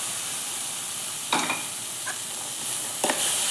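Boiled chickpeas fry in spicy masala in a pan, giving a constant sizzling hiss with a few brief scraping stirs at intervals.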